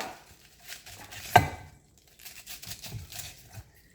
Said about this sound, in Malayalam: കാബേജിന് നമ്മളിങ്ങനെ ജസ്റ്റ് ഒന്ന് കട്ട് ചെയ്തിട്ട് കൊടുക്കുക